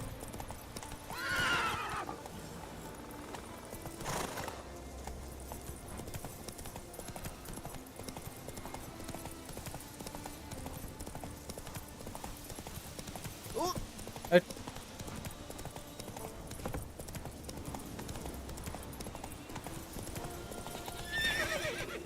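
Horse hooves clip-clop through a Witcher 3 game scene, with the horse whinnying and neighing several times; someone talks throughout over the ongoing gameplay sounds.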